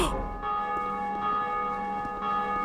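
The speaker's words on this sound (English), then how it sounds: "We rung the bell of awakening!" The Bell of Awakening in Dark Souls 2 tolls with a bright metallic strike and then a long ringing hum that swells again near the end.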